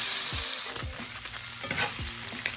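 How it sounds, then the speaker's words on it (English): Ground beef browning in ghee, a steady close sizzle and crackle of frying meat, broken by a few scraping stirs of a utensil against the pan. "we're actually going to cook our ground beef in the very same oil that we use for ghee"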